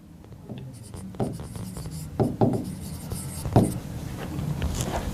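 A teacher writes on a classroom board during a thermodynamics lesson, with close, scratchy strokes that come in short separate bursts and a faint steady background hiss.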